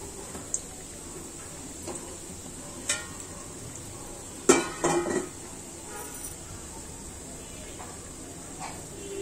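Occasional metallic clanks and scrapes of a pot of nimki being moved on a gas stove, with a louder cluster of knocks midway, over a quiet room hum.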